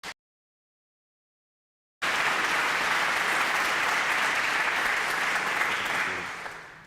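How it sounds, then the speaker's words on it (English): Audience applause at a military promotion ceremony breaks out after a short silence and holds steady for several seconds before fading, a full, even clapping crowd with no talk over it. "let's give them a round of applause first and foremost"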